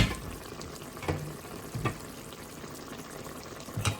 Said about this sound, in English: it's nice and bubbly now